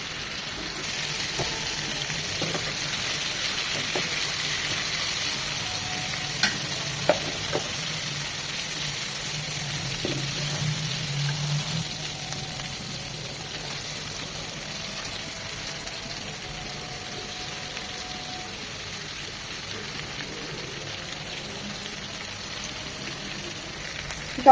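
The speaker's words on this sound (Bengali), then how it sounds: "ঠিক এরকম লাল লাল করে পোড়া পোড়া করে চিকেনগুলো ভেজে নেব।" Chicken pieces frying over high heat in oil until reddish and charred for a Dubai-style Iffa chicken dish, a steady low sizzle running throughout with a few faint clicks of utensils, no talking.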